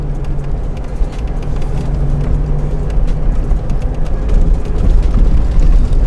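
A Mazda Miata driving along a very narrow road, its engine and road noise forming a loud, steady low rumble that swells slightly toward the end, heard from inside or close to the car with no talking.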